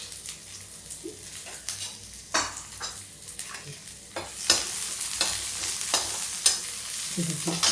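Chopped onion fries in hot oil in a pan for besan kadhi with pakoras, giving a steady sizzle broken by repeated scraping stir strokes that grow louder and busier toward the end. No talk.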